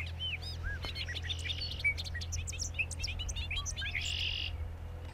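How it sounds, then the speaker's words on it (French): A bobolink sings in farmland at a distance: a rapid, bubbly cascade of bright, tumbling, electronic-sounding notes, fairly faint over a low, steady background hum. "C'est le goglu."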